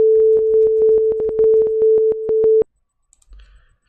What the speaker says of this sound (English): make that sine wave for 40 hertz